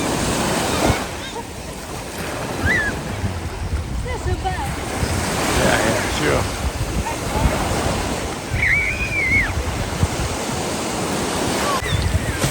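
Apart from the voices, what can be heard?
ocean waves on beach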